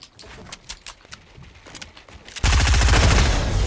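Fortnite gunfire: scattered single shots for the first two seconds, then a loud, dense burst of rapid automatic fire to the end.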